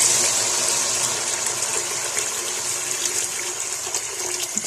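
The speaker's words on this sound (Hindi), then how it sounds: "उतना ही मैंने थोड़ा डबल करके पानी डाल रही हूँ" Water pours steadily into a cooking pan for matar pulao with green peas, a continuous bright splashing gush heard close up and fairly loud, without talk over it.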